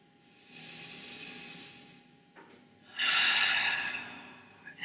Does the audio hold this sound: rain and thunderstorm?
no